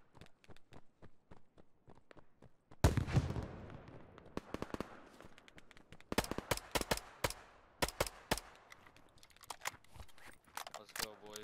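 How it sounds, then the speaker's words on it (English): A grenade blast erupts in a multiplayer shooter game, a sudden loud broadband burst followed by sharp rapid gunfire cracks and scattered impacts, with players talking over the action. "Oh shit, a fucking nade."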